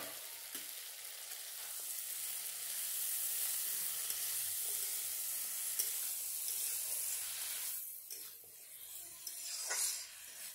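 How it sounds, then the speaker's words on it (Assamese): Taro stems and fish fry in a pan with a faint, continuous high sizzle that swells and fades slightly, with occasional light stirring scrapes and no talk. "কচুখিনি আৰু অলপমান ভাজা যাওক"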